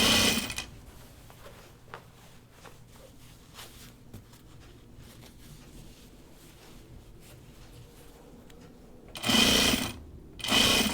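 A sewing machine stitches a jacket in short whirring bursts near the start and end, with soft fabric handling and small clicks in the quiet gap between them.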